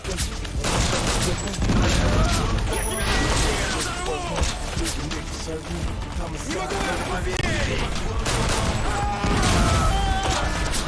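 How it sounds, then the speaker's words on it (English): Pistol fire and explosive dart blasts in the 50 Cent: Blood on the Sand video game, a dense run of shots, bangs and crashes layered over a loud, busy game soundtrack with voices. "Just whipping out my pistol and tagging dudes with the explosive darts"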